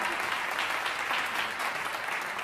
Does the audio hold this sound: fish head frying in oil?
no